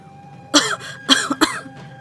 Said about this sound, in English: I coughed violently after carelessly breathing in smoke.